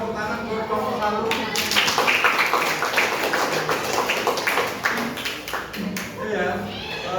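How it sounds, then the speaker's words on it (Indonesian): Classroom clapping for a student group, a burst of scattered, uneven clapping from students with voices and chatter mixed in throughout. "Tepuk tangan buat kelompok 1."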